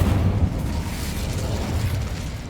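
Incendio fire spell cast in the Hogwarts Legacy video game: a loud, dense burst of roaring, crackling fire with a low booming rumble, sustained and close throughout.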